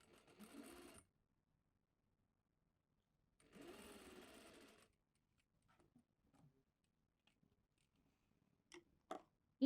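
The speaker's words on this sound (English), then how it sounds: "I'm not going to make a back stitch in the end of the seam." A domestic sewing machine stitches a skirt seam in two short, loud bursts of rapid whirring. Quiet handling of the fabric and a few sharp clicks and snips follow.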